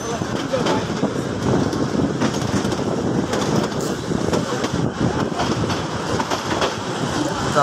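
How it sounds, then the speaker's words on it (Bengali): A DEMU commuter train on the Narayanganj line runs steadily along the rails and gathers speed, giving a continuous loud rumble with rattling wagon noise and some wind buffeting the microphone throughout. "তুলনামূলক গতি বাড়িয়ে চলছে ট্রেনটি।"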